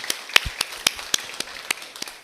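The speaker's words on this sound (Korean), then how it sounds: "다시 한번 하나님께 우리 감사와 영광의 박수 올려드리겠습니다." Applause from a small church congregation: about a dozen sharp, separate claps in an uneven rhythm, fairly close and moderately loud, with no talking over them.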